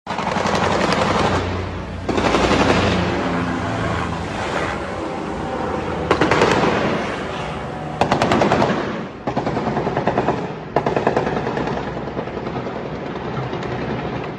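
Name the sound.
gunfire shots at a helicopter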